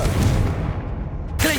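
A Confringo fire spell goes off in Hogwarts Legacy, a loud, booming blast with a rumbling tail that fades, followed by a sharp new burst at the end.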